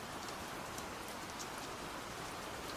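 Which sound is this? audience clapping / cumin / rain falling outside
rain falling outside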